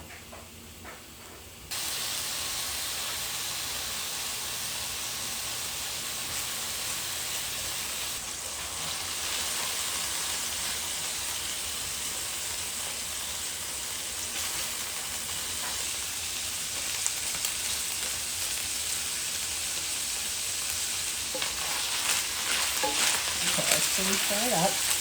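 One pound of hamburger meat fries in a hot pan with a continuous sizzling hiss that swells after a brief quieter start. Occasional scraping and stirring break through near the end.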